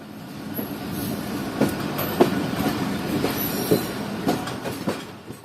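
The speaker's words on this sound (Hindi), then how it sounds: "तकरीबन सुबह के 7:05 पर हमारी ट्रेन इस वक्त पहुंच रही है मुल्तान कैंट रेलवे स्टेशन पर" Passenger train pulling into Multan Cantt railway station in Pakistan during a long journey toward Sindh, heard from on board: steady rumble with rhythmic wheel clacks over rail joints and faint high squeals, fairly close and continuous.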